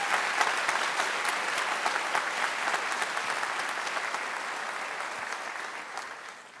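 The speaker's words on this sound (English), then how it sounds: "so just a round of applause for him." Sustained audience applause at a school achievement day ceremony, honoring the piano player, steady dense clapping throughout that fades slightly toward the end.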